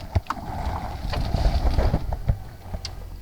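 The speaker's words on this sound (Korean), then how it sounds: "자, 시동 한번 걸어보도록 하겠습니다." A white Mercedes-Benz S400d 4matic with a diesel engine starts and settles into a low, close rumble, steady and fairly loud, with no voices.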